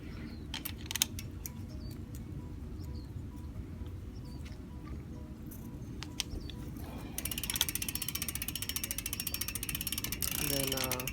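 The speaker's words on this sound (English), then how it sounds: "turn it back over and go ahead and tighten it to specified torque" Bicycle chainring bolts tightened with a torque wrench, a close run of small ratcheting clicks and metallic mechanism sounds, building into a denser rapid clicking near the end, with some talk mixed in.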